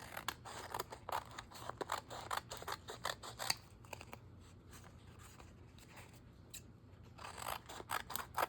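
Scissors snip repeatedly through a large handmade card for a junk journal, crisp close cuts in irregular bursts with short pauses between, no talking.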